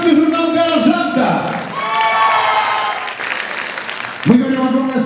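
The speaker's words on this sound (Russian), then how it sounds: "Ваши аплодисменты!" Concert audience at a TV music festival in Los Angeles applauding while an announcer speaks over them; the clapping and crowd noise run as a bed beneath the voice throughout.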